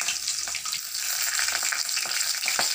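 Green chillies and curry leaves frying in hot oil for a chicken masala gravy, a busy crackling sizzle with scattered pops and brief stirring scrapes.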